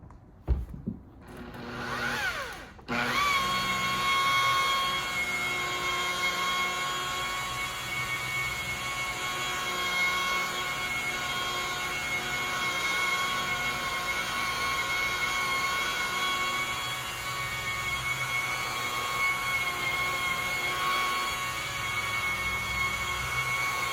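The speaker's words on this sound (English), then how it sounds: "I tell anybody I've gotten addicted to the sound of the Makita" After a few seconds of handling noise, a Makita rotary polisher buffing the hood of a BMW 535i with a 7-inch foam glazing pad settles into a loud, steady, high-pitched whine that holds unbroken to the end.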